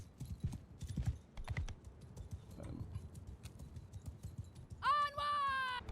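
Horse archers' hooves clop in Mount & Blade II: Bannerlord as they advance, a busy patter of many hoofbeats at moderate distance, with someone talking over it and a tonal game sound near the end.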